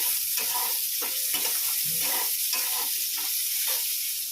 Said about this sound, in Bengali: উচ্ছেটা আগে ভেজে নিই লাল লাল করে